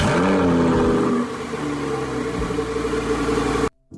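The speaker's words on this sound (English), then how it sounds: "The V10 engine roared to life and shook the entire place." A Lamborghini Huracán Tecnica V10 engine idles loudly with a deep rumble, its pitch shifting slightly before it cuts off abruptly near the end.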